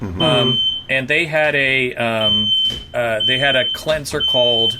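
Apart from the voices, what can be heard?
smoke alarm beeping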